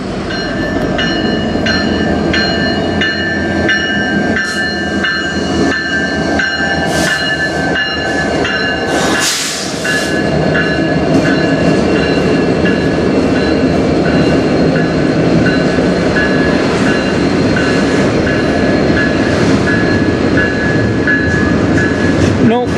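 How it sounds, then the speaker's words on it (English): A long CN freight train rolls past steadily on the Strathroy Subdivision, loud and close, its wheels and cars producing a continuous rumble with bright metallic squeal and ringing tones throughout. "Pretty long train."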